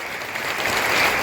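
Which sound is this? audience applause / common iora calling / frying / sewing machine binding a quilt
audience applause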